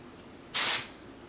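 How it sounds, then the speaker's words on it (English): A single short hiss of hair texturizing spray from an aerosol can, sprayed close into hair, lasting about a quarter second against quiet room tone. "You spray it into your hair"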